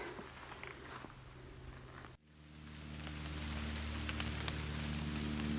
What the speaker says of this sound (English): It almost seems like it's raining, but it's all the dew coming off the trees when the wind blows.